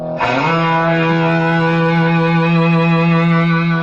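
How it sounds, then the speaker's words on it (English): A single sustained electric guitar chord, heavily distorted and loud, rings out with rich buzzing overtones and holds steadily without decaying. "A distortion pedal, which overloads the signal."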